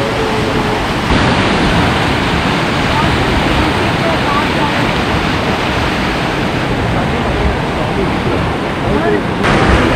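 A river in flood spilling over its banks into the surrounding land gives a loud, unbroken wash of rushing water, close and constant across the clip, with a voice faintly underneath.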